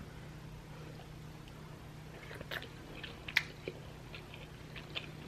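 Shrimp dipped in hot garlic sauce bitten and chewed close up, a few soft crunchy bites and chewing sounds over a quiet low hum.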